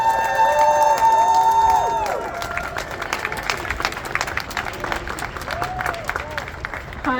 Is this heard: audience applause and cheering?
yes